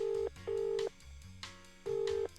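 Video game phone dialing: a short run of electronic keypad tones, with three sustained steady beeps and softer tones between them, loud and close, with no voices.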